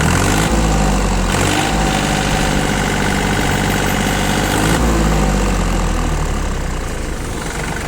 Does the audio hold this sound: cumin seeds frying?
no